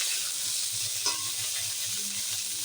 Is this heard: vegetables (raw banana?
yes